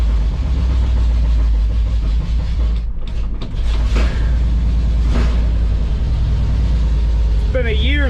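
A 1982 Oldsmobile Cutlass Supreme's 350 V8, restarted after sitting a year, runs with a loud, steady rumble close by, alongside faint voices and some clanking.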